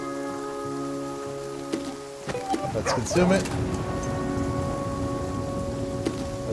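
Steady rain in the survival game The Flame in the Flood, a continuous hiss of falling drops on surfaces under a calm game music backdrop, with a person speaking briefly over it midway.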